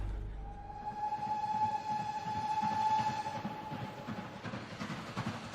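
A train rumbles past, with a long tonal horn blast sounding over the rolling clatter before it fades into steady track noise.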